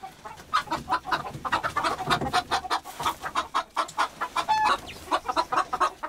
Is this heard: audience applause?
no